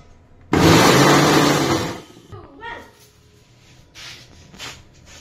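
A mixer grinder blending green chillies into a paste, giving one loud whirring burst of about a second and a half that cuts off abruptly, followed by quieter handling noises and a brief voice.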